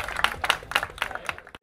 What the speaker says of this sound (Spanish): Se merecen un fuerte aplauso